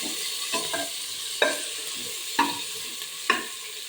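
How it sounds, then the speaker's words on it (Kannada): Ingredients roast in a frying pan with a steady soft sizzle, broken by several sharp scraping strokes of a spatula stirring at intervals, up close. "ರೋಸ್ಟ್ ಹಾಕ್ತೀನಿ."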